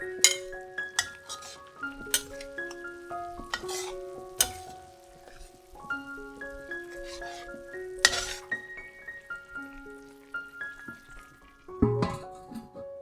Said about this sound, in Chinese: 再盖上盖子